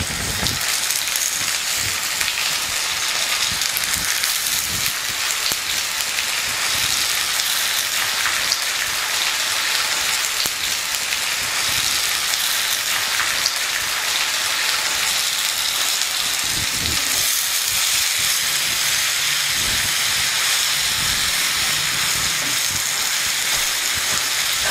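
Spring onions sizzle in a hot pan of fried onions for a curry, a steady dense crackling hiss that holds evenly throughout.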